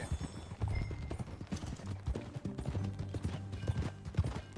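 In Red Dead Redemption 2, quiet, uneven hoofbeats clop along at a walking pace, mixed with low creaking and rattling, with no voices.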